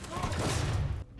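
Gunfire from a weapon in Star Citizen, a short dense burst of rapid shots with a heavy low thump, loud and close, cutting off abruptly and leaving near silence.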